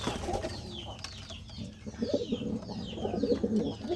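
Pigeons of Sirazi and Bombai breeds coo softly and repeatedly at a pigeon market, with low throaty calls overlapping and faint wing flutters and chirps around them.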